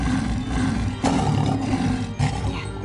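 A man imitates a big cat's growl, producing two loud, rough roaring bursts close to the listener with no other talking.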